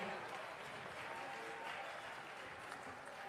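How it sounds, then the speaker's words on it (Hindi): A crowd applauds steadily throughout at the Rajgir Mahotsav 2024 inauguration in Nalanda, the clapping blending into a continuous wash of sound that is fairly faint. "जोरदार तालियों से स्वागत करेंगे"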